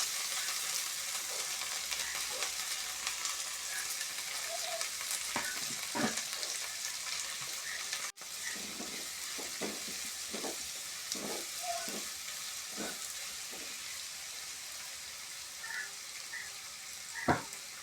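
Curry leaves and mint sizzle in hot oil for amaranth-leaf liver fry, a steady close frying hiss with scattered crackling pops and occasional stirring clatter throughout.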